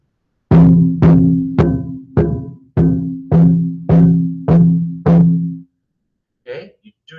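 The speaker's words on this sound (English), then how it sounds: "when you bounce them on your drum, which in your case is probably going to be your desk" Drumsticks bounced off a drum or desk, giving eight loud, evenly spaced sharp strikes with short ringing tails, followed by a couple of faint quieter taps.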